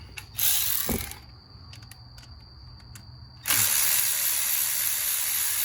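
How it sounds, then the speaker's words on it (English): A ratchet loosens a 10 mm bolt on a GMC Sierra during fuel injector work, giving quick clicking bursts of the pawl between louder hissing or rustling passages, close and with no talk. "you loosen this bolt. I think it's a 10 mil."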